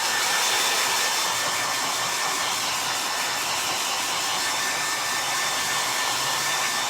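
A hair dryer blows over a freshly painted chinoiserie-style furniture finish, a loud, steady whooshing roar held close and unbroken throughout.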